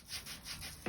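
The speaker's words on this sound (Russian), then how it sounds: "Потрите пемзой" Pumice stone rubbed against heels, softened after soaking in a warm foot bath, giving a few repeated close gritty scraping strokes at a steady rhythm, with a slightly heavier final stroke.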